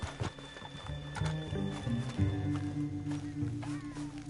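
Horse hooves clop steadily on the ground in the Red Dead Redemption 2 video game, a clear close rhythmic clip-clop over a low sustained musical drone, with no talk.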